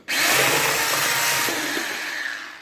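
An electric hand mixer whisking sugar and eggs for a Turkish mother's cake batter, a loud, steady whirring hum that starts suddenly and slowly fades over a few seconds.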